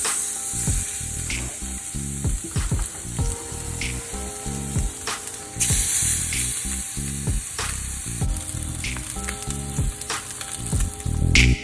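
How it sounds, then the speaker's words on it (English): Salmon fillets with blackened seasoning sear in smoking-hot olive oil in a cast iron skillet, a loud continuous sizzle and spatter close up, with occasional clicks and knocks. "it's time to put these salmon in this skillet"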